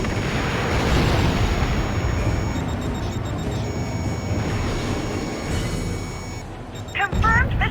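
Hightasm missile launch in Ace Combat: Joint Assault, a loud roaring blast and rushing burn that slowly fades, followed by sharp electronic beeps and a fresh burst of noise near the end.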